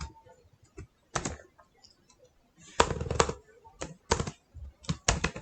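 Typing on a computer keyboard in quick bursts of clicky keystrokes, separated by pauses, close and moderately loud, with no voice.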